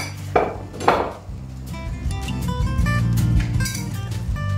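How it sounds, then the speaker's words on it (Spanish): Feijoada ingredients are stirred in a pot with a metal utensil, two sharp clanks against the pot followed by continuous scraping and clinking, close and clear, no voices. "Ahora lo mezclaremos todo."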